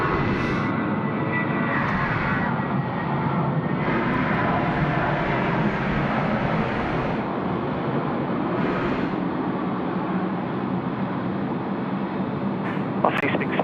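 Jetstar jet airliner taking off at night at Sydney Airport, a broad steady engine roar filling the whole stretch, with a voice talking over it at times.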